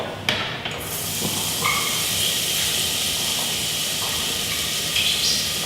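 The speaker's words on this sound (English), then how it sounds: "I'm gonna go ahead and add it to my hot oil." Chopped onions dropped into hot oil burst into a loud, continuous sizzling hiss that holds steady throughout.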